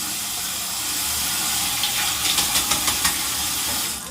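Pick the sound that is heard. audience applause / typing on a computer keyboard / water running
water running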